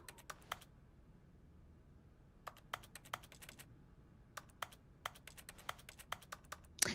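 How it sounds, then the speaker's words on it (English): Sharp computer mouse and keyboard clicks in The Stanley Parable Ultra Deluxe come in irregular bursts of quick taps separated by quiet pauses, crisp and close, with no talk. "no matter what you are clicking on, it makes computer clicking sounds"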